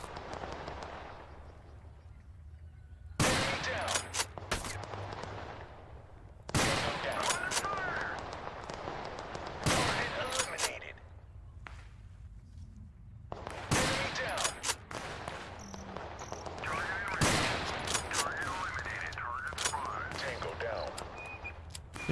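Sharp, loud rifle shots from a sniper in the video game Total Conflict: Resistance, fired singly every few seconds and ringing over a steady battlefield din of distant gunfire.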